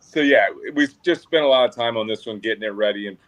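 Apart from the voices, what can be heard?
No distinct noise like a dog, phone or traffic.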